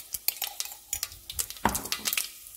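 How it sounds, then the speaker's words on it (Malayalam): Mustard seeds splutter in hot oil in a pan for a Kerala-style fish curry, giving scattered close, sharp pops and crackles with a few light clinks of a spoon against the pan. "കടുക് പൊട്ടി വരുന്നുണ്ട്."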